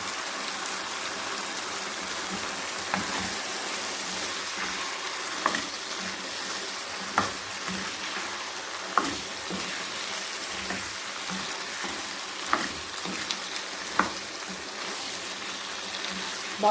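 Cut potatoes fry in a pan with mutton keema, giving an even, rain-like hiss of sizzling oil dotted with occasional sharp pops and ticks.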